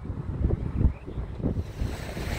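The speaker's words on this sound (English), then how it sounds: "And this is York River" Waves on the York River at Yorktown Riverwalk Landing wash in close and loud, rolling surges in a low rumble mixed with heavy wind buffeting the microphone.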